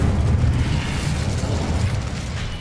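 An Incendio fire spell erupts in Hogwarts Legacy, producing a sustained, loud, rumbling burst of fiery explosion that fades slightly toward the end.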